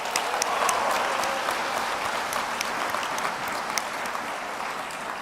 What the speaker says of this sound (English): Let's acknowledge them with some applause.